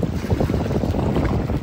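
Steady wind buffets the microphone at a beach on the Corniche in Abu Dhabi, a continuous low rumbling roar with no breaks and no one talking.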